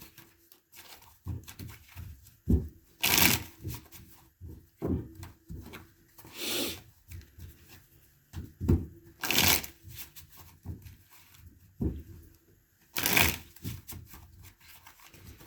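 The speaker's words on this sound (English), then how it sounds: "I feel like I need to shuffle these cards a bit" Tarot cards being shuffled by hand in a quiet room, with repeated bursts of riffling and soft slaps of the deck at a steady, unhurried rhythm, close and fairly quiet.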